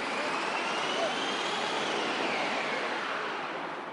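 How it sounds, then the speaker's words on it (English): Hydraulic launch of the speed-focused roller coaster at Ferrari World in Abu Dhabi, a loud, steady, broadband rushing roar that fills the whole stretch without a break and eases off slightly at the very end. "It's a hydraulically controlled launch system, very similar to launching an aircraft off an aircraft carrier."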